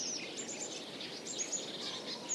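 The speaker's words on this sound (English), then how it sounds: "So we got some birds in here." A recorded bird song sample plays back through an iOS AUv3 sampler app: thin, high chirps and tweets repeat over a soft, steady wash of background noise, quiet and without talk.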